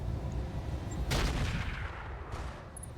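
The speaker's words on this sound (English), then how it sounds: "A decent long tom shot there, making him unsteady." A Long Tom artillery piece fires in the mech combat game RogueTech, a single heavy booming blast with a rumbling decay over a continuous low background.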